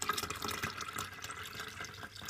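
Homemade raspberry, pineapple and apple juice dripping and trickling through a strainer, a steady close liquid patter with no voices.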